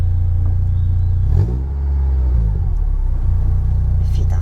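A Citroën Saxo VTS 16V engine rumbles loudly from inside the car, rising briefly in a rev around the middle and then settling back to a steady drone.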